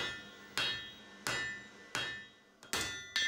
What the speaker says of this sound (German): Nachdem die Löcher ausgestanzt wurden, werden die Seitenaufzüge ausgeschlagen.